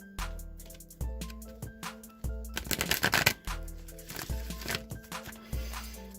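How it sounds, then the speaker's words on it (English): An oracle card deck is shuffled by hand at close range, giving crisp riffling bursts and soft card slaps repeated several times over a steady low background tone. "Now I'm just going to shuffle the wisdom of the Oracle deck a few times"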